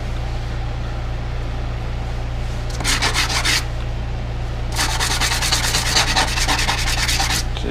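A bench grinder wire wheel cleaning the sole and parts of a Stanley Type 20 No. 4 hand plane, with steady motor hum broken by two harsh, gritty bursts of contact, the second longer, close and loud.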